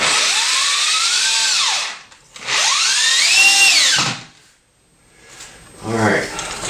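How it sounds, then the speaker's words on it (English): Power drill driving screws into the wooden benchwork of an HO scale model railroad, two whining bursts that rise and sag in pitch, close and loud, followed by a brief spoken voice. "put your weight behind it, it's a lot easier to put those screws in"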